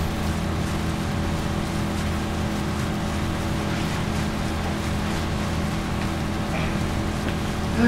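Boat engine in the Watch Dogs video game, a steady droning motor hum with water wash, loud and continuous throughout with no talking.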